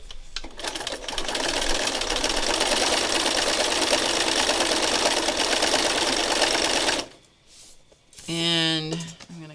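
A sewing machine stitches with bobbin thread in a fast, steady mechanical rattle for about seven seconds, then stops, and a person talks briefly afterward.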